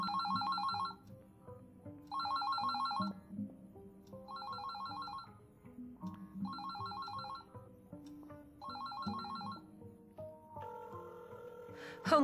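A telephone rings in repeated bursts with even pauses, left unanswered, over a low background hum; no one speaks.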